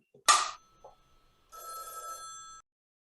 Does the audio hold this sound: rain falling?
no